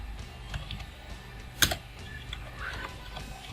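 Keys clatter on a computer keyboard as text is entered into a Microsoft Excel 2019 WordArt box, with soft scattered taps and one sharper click partway through, fairly quiet and close with no talk.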